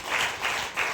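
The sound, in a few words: congregation clapping loudly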